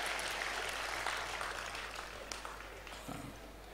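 Audience applause at a Tamil comedy speech event, a steady wash of clapping that holds for several seconds at moderate level and slowly fades a little toward the end.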